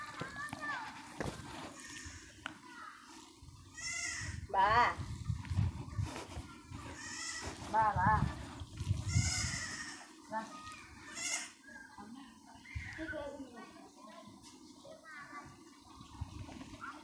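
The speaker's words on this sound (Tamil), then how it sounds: "அது வீடா இல்லை ஆடு இருக்குங்களா?" Goats bleat repeatedly at a moderate distance on a rural homestead, the wavering cries arriving every second or two over an outdoor background while people talk nearby.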